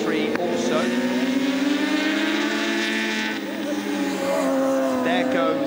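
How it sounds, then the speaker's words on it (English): A white and blue Sport 600 racing motorcycle with an orange bib passes at Oulton Park during a ThundersportGB pre-national race, its engine a loud, sustained whine that rises and falls across the pass, with a second surge near the end. "There goes that white and blue bike with the orange bib."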